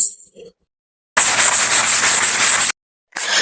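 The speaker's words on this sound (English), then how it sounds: "the next step will be just sanding this frame" Steady, abrasive sanding of a wooden mirror frame rasps for about a second and a half, loud and close, with quieter brief rubbing sounds before and after.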